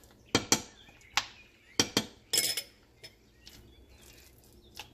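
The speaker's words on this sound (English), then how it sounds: "Mash the potatoes like this" A utensil clinks and scrapes against a pot while mashing cooked potatoes, sharp irregular taps in small clusters followed by quieter scraping, with no talking.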